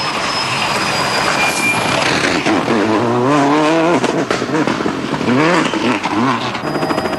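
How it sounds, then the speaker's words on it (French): Solberg's rally car launching into special stage 13 at the 2003 Rally Australia, a loud close engine revving through rising and falling gear sweeps with harsh broadband roar, no talking. "Solberg s'élance donc dans la spéciale 13, bien décidé à prendre la tête."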